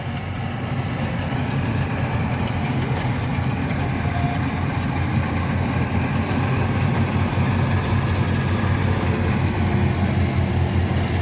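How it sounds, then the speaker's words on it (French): A tracked crawler harvester's engine runs steadily through a rice harvest in Mindoro, a loud continuous low rumble with a constant mechanical drone and no pauses. "Machinerie à chenilles"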